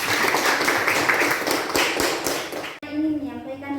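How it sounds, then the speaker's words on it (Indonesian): Applause for a presenting student group in a classroom: dense, continuous clapping from many hands, fairly loud and steady, cutting off abruptly near the end into a quieter moment with a voice. "Beri aplaus kepada kelompok"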